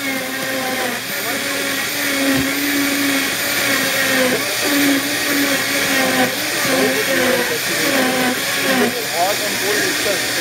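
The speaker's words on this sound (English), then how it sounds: "So let that blend about 90 seconds." Blender running at high speed making juice, a steady loud whirring roar that persists throughout, with a tamper pushed into the jar.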